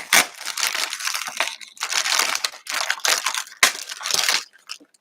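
Plastic packaging crinkles and crackles loudly and close up as it is torn open for quilting, in several rustling bursts with brief pauses between them and no talking.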